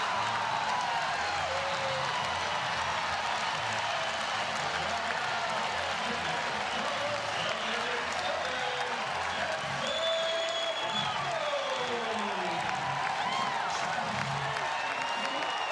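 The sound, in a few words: crowd cheering at Utah Valley vs Oregon baseball game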